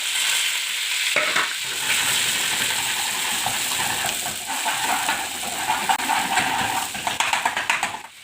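Onions sizzle and fry in hot oil with ginger and green chilli in a kadhai, a steady bright crackling hiss that carries on throughout with faint stirring.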